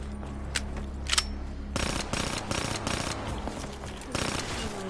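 Automatic machine gun fire in Call of Duty Black Ops 3 zombies mode, rapid bursts of loud close shots after brief scattered single reports, with short gaps between the bursts.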